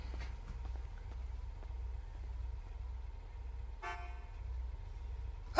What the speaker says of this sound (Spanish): Me ha asustado tocar el claxon.